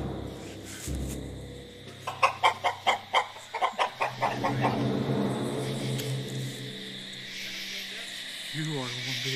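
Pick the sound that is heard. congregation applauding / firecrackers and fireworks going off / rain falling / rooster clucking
rooster clucking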